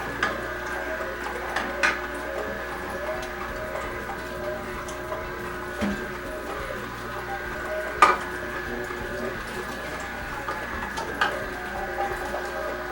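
An Omega NC800HDS slow juicer's auger grinds grapefruit with a low, steady mechanical hum, broken by occasional soft clicks and knocks as pieces feed in.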